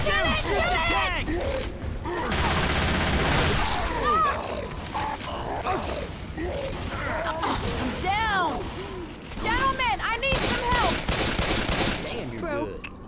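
Rapid gunfire rattles through a chaotic Left 4 Dead 2 fight, with dense bursts, mechanical clatter and creaks, and shouting voices constantly layered over the shooting.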